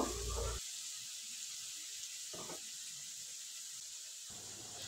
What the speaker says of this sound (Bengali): মিক্সি জারটা ধুয়ে একটু জল দিয়ে দেব।